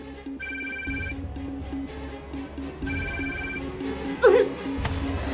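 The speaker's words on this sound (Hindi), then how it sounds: "कहाँ फंस गई रम्या तो मेरा फोन ही नहीं उठा रही" A telephone rings unanswered in a Hindi-dubbed film scene, its repeated electronic ringtone bursts sounding in two spaced groups over a steady background score, with a brief louder clatter near the end.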